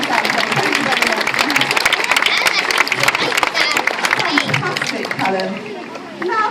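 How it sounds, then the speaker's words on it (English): Large audience at a sea lion show at West Midlands Safari Park claps loudly and steadily, a dense sustained round of applause mixed with crowd chatter, fading slightly near the end. "everyone give them one last massive round of applause"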